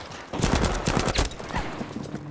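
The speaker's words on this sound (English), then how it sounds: "The shotgun again." Rapid overlapping gunfire in Battlefield V, a dense burst of loud cracks and booms lasting about two seconds, busy and close with no talk over it.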